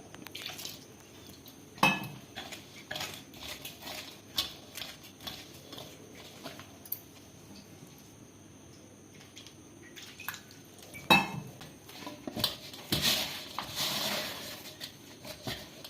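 Wet, soft squelching and occasional clicks as flour dough for puri is kneaded by hand with salt and cold water, faint and intermittent with no voices.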